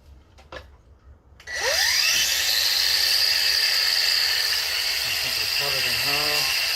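An angle grinder spins up and cuts straight through a plastic pot, a loud steady whine held for about five seconds after a brief pause, with faint talk near the end.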